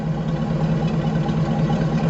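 A Hummer H2 engine with a small exhaust leak idles steadily, giving a low, even rumble with a faint raspy edge that holds without change and has no talk over it.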